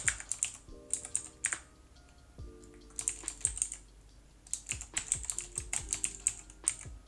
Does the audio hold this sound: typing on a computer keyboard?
yes